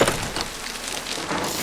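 Steady rain in The Witcher 3, a dense broadband hiss of drops falling without a break, fairly loud and close, with no talk over it.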